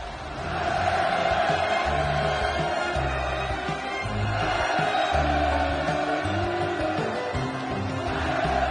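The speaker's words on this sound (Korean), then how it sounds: "감격의 환호, 격정의 열파로 진수식장은 더욱 뜨겁게 달아올랐습니다" A large crowd cheers at a naval destroyer launch ceremony, a sustained roar of massed voices that swells and rolls in waves, loud and continuous from the first second.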